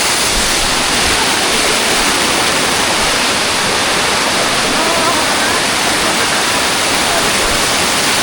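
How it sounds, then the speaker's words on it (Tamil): Tumpak Sewu waterfall in Java, Indonesia, a heavy cascade of water pouring down as a loud, steady roar that fills the whole scene without a break. "நிறைய தண்ணி ஊற்றுது,"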